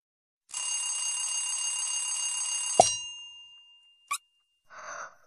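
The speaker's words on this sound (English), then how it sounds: "Alarm clock." An alarm clock rings in the Pocoyo Playset children's game as a steady bright metallic ring of about two seconds that stops with a clang, then a short ding and a brief chime, with no voices.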